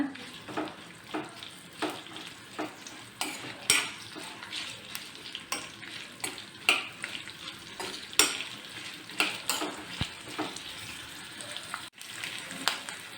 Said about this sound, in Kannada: ಹಸಿಮೆಣ್ಸಿನ್ಕಾಯಿ ಹತ್ತು ತೊಗೊಂಡಿದ್ದೀನಿ ಈಗ ಇದನ್ನು ಹುರ್ಕೊಳ್ಳೋಣ